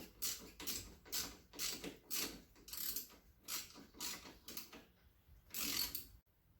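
A ratchet clicks in about nine quick, evenly spaced strokes while tightening the rear sway bar link on a 2001 Polaris Sportsman ATV. The sound is fairly quiet and close, with no talking.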